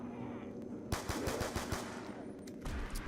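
FN Five-seveN pistol fired rapidly in Black Ops 2 Zombies, a quick string of close, punchy shots after a quiet start, with faint game ambience around it.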